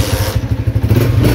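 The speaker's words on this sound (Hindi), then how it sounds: "मोटरसाइकिल को मैं स्टार्ट कर देता हूँ" A motorcycle engine catches and settles into a steady idle, its low pulsing throb running close and loud throughout.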